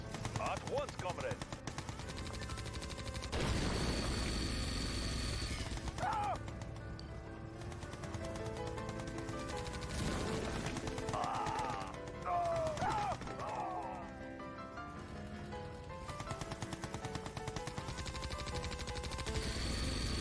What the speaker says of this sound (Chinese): 现在尤里拿盖特坦克调戏粉色这家碉堡